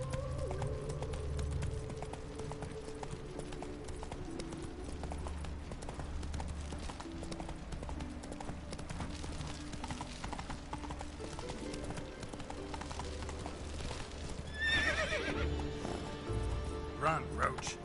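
Horse hooves clip-clop steadily at a gallop in The Witcher 3 video game, with a neigh breaking out near the end over a constant bed of game music and ambience, no talk evident.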